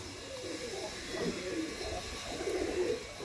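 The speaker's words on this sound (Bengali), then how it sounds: "দেখুন পায়রাটা দেখছেন" A Chennai (Madrasi) tournament pigeon coos softly in a few low, rolling phrases against faint background hiss.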